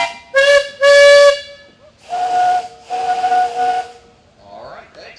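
Two blasts of a steam tractor whistle at a steam show, loud and close: a short harmonic toot, then a longer lower-pitched blast with steam hiss trailing off.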